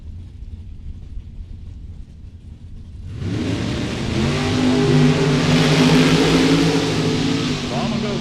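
Drag racing cars, an Oldsmobile Cutlass and a Corvette, launch at the World Super Pro Challenge: a sudden loud, roaring engine burst after a quieter crowd-and-announcer stretch, building into a sustained high-revving scream at full volume.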